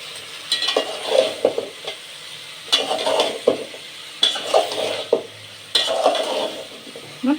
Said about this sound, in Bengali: মিক্স করে দিই বেগুনের সাথে।